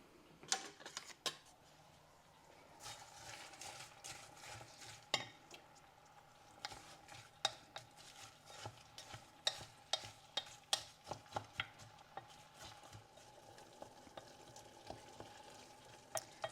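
Onions and celery sautéing in a pot for tomato soup, a quiet steady sizzle broken by frequent light utensil clicks and scrapes against the pot, with no speech.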